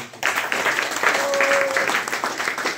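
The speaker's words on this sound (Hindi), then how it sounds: "जोरदार ताली" Loud, dense applause from a crowd, steady for a few seconds, with a brief voice or whistle tone rising above it.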